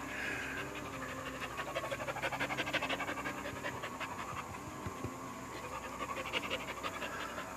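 Small dogs Banjo and Wrangler pant rapidly and steadily in hot, humid weather, close up with a continuous, breathy rhythm throughout.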